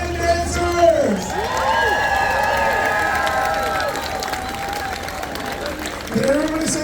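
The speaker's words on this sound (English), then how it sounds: "Big round of applause to our lion dancers!" Crowd applause and cheering at an outdoor Lunar New Year celebration in Victoria, BC, greeting lion dancers; sustained dense clapping with whoops, while an announcer's voice rises over it at the start and end.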